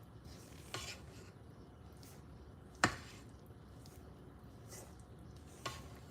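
Cinnamon roll dough is mixed by hand with flour in a bowl, giving a soft continuous stirring scrape with a few sharper knocks, one louder clack midway.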